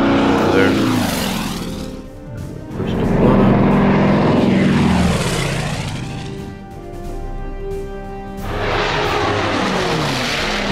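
Propeller aircraft escorting bombers in a combat flight video game drone loudly and continuously, with engine pitch sweeping up and down as the planes manoeuvre, in several long rising and falling passes.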